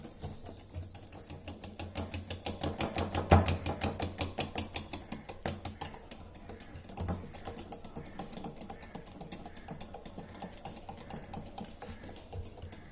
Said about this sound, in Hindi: अब इन दोनों चीज़ों को बहुत अच्छी तरह से मिक्स कर लेना है।